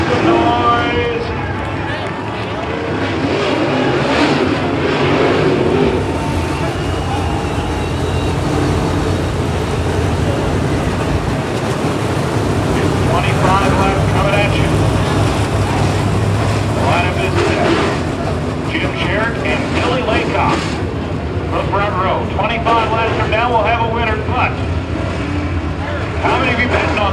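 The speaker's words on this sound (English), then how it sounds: "So Tri-City Speedway as the pace truck rolls around." Race cars and a pace truck circling Tri-City Speedway, a continuous loud engine drone with crowd babble, and an announcer talking over it throughout.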